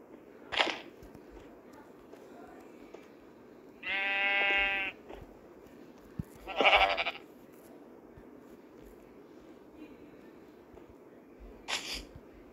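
Minecraft sheep bleat several times as short, nasal, wavering calls spaced a few seconds apart, one longer and louder than the rest, over a quiet game background with faint clicks.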